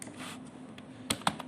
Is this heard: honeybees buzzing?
no